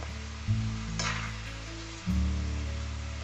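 Pieces of Kerala-style chicken fry crackle and sizzle steadily in a hot pan of oil, close and continuous, with a couple of louder bursts as the pieces are moved or stirred.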